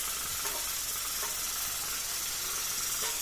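Tomatoes fry in an oil-filled pan for a home-style chicken curry, giving a constant bright sizzle and hiss with faint soft pops, close and steady, with no voices.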